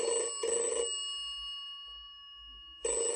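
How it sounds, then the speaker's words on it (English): A telephone rings in two long bursts of bell-like tones, loud and close, with a quiet gap between them before the ringing starts again. "A phone call."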